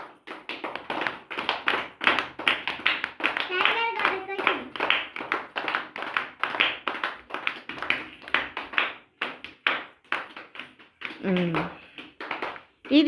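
A classroom of children claps in quick, uneven bursts, many small hands tapping close by while a teacher's voice and children's replies come in between the claps.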